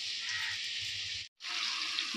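Potatoes for a chicken curry frying in hot oil, a steady bright sizzle broken by a brief silent gap before resuming just as loud.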